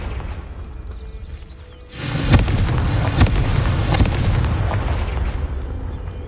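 The Confringo blasting spell explodes in Hogwarts Legacy as a sudden loud boom, followed by a rumbling, crackling burst with a few further thuds that fades slowly.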